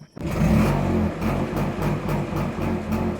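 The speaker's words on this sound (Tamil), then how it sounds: "ஃபைனலி ஒரு வழியாக வண்டி வந்து ஸ்டார்ட் ஆகிடுச்சு" A 36-year-old Bajaj Chetak scooter, freshly serviced and running slightly choked, catches with a sudden start. It settles into a loud, close, pulsing idle that throbs in a steady rhythm.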